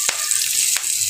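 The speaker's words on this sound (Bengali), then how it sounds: "ইলিশ মাছের ডিম দিয়ে আলু ভাজি করব, এটা বসিয়ে দিলাম।" Potatoes frying in a pan with hilsa fish roe, turmeric and green chilli, a loud, close, continuous sizzle broken by two short stirring clicks.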